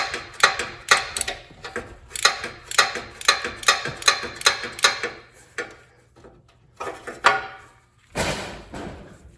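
A ratchet wrench with a 14 mm socket loosens a bolt while servicing a 2011 AWD Charger, producing repeated bursts of rapid clicking, then a few slower isolated clicks and a final louder rush of noise, with no talking.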